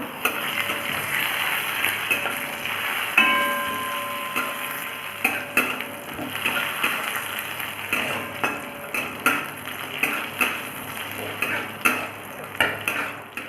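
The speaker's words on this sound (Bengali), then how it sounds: "কাজু কিশমিশগুলো একটু লাল লাল করে ফ্রাই করে নেব।" Cashews and raisins fry in ghee in a pan for vermicelli payesh: a soft, continuous sizzle with a regular series of spatula clicks and taps against the pan, growing more rhythmic toward the end.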